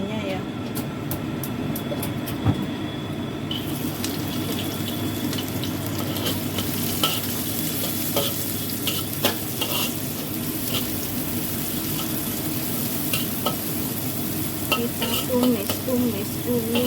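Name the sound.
frying shallots in a pan, stirring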